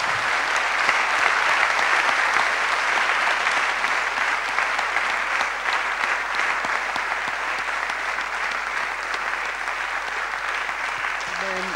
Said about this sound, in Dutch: Geef een applaus aan Jezus.